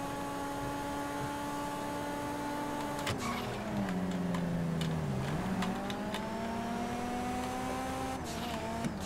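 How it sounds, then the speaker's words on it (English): A car engine hums steadily in GTA 5 Online, a sustained tonal drone whose pitch dips and rises with speed, joined by occasional short clicks and knocks, with no talking. "Love the sound of that motor, it's humming along."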